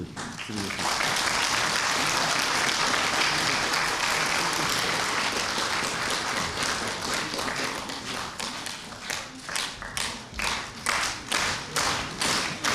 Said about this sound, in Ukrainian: Тому я би просив всіх долучитися аплодисментами до подяки.